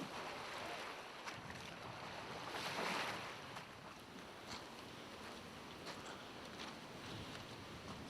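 A small rowboat pushes through big waves in strong wind on a wide bay, with rushing surf, gusting wind buffeting the microphone and intermittent knocks of oars or hull, loud and continuous with no voices.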